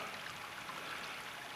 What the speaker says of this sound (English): I can hear water flowing quite fast, even though I can't see it at this point where it's coming from